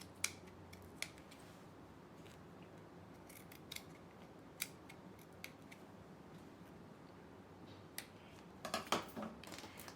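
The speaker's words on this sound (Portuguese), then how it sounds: "E depois é só você vir com a sua tesoura e cortar." Scissors cutting fabric for a handmade bag with a French braid strap, heard as quiet, close, crisp snips spaced irregularly, ending in a quick cluster of cuts.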